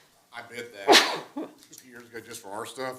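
A single abrupt sneeze bursts out in a council meeting room, loud and close, set amid steady ongoing talk before and after it.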